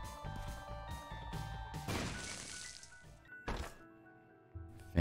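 A bomb bursts with a heavy crunching thud in The Binding of Isaac video game, cutting through steady game music, followed by a second sharp impact a moment later.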